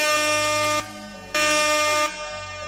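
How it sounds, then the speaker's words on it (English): Loud repeated air horn blasts used as a celebratory sound effect, two long sustained bursts with a brief quieter gap between them. "Give her air horns"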